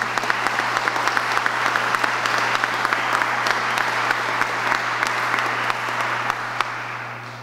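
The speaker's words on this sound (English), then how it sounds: "Let's give them a round of applause." A crowd at a booster pumping station project completion event in Waukesha gives sustained, loud applause for the contractors and workers, dense and even throughout before easing slightly at the end.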